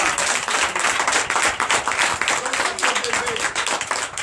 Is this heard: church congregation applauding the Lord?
yes